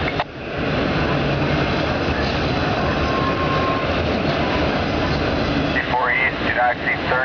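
A Union Pacific autorack freight train rolls past in Ames, Iowa, a loud, steady roar of rail cars and wheels that lasts the whole time, with a brief high squeal near the end.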